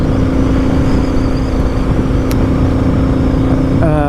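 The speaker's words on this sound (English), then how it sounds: "just to fire the bike up and see if there were any exhaust leaks anywhere." A BSA motorcycle with a decat exhaust pipe runs steadily at a close, loud idle, its even engine drone holding throughout with a brief rising rev near the end.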